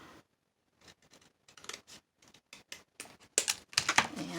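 Scissors trimming paper for a junk journal tag, a series of short close snips and crisp paper rustles that speed up and grow louder toward the end, with no talking.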